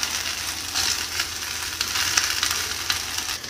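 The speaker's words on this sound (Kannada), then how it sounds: "ಒಂದೆರಡು ನಿಮಿಷ ಫ್ರೈ ಆಗಲಿ." Tomatoes, onions and curry leaves frying in a pan for ladyfinger sambar, a loud continuous close sizzle with soft scraping of stirring, no voices.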